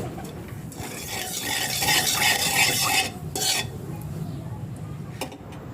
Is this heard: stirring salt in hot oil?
yes